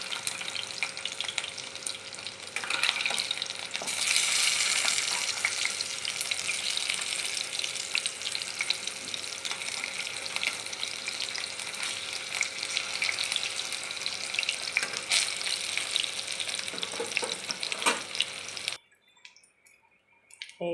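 Stuffed pointed gourd fries in a little oil, giving a loud, steady sizzle and crackle for most of the time before cutting off abruptly near the end.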